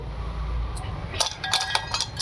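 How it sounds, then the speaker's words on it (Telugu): A few light clinks and taps of dishware as something is set down on a hard surface, a short cluster of small knocks. "గిన్నె ఇక్కడ ఇట్లా పెట్టేసి"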